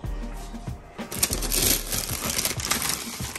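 Plastic meal-kit bags from a home meal delivery box crinkle and rustle up close in irregular bursts, loud and continuous with no speech.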